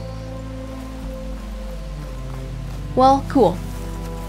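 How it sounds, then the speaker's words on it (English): Rain falls in Horizon Forbidden West as a steady, soft hiss beneath game music and ambience, while a player speaks briefly over it. "Yeah, that's rain. That's not even snow."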